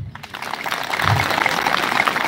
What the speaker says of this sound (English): Let's clap for these schools.